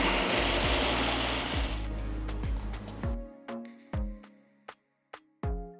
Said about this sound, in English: we're going to grind this because you don't want that tomato skin in your pickle.